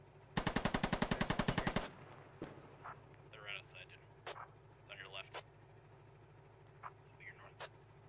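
A rapid burst of close machine-gun fire in the video game Squad Ops rattles for over a second, followed by scattered single shots and distant pops.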